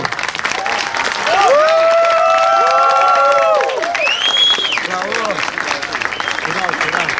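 Crowd applause welcoming theatre artists onto the stage at the opening of a theatre festival in Alanya, a sustained roar of clapping with cheering and a prominent voice carrying over it.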